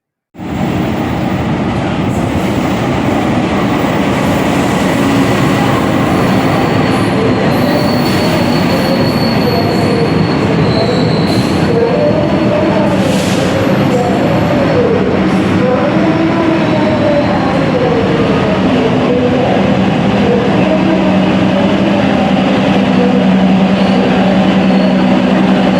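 Cikuray passenger train rolling along rails at night, a loud continuous rumble of wheels on track with intermittent metallic wheel squeals throughout, heard from close by, no talking.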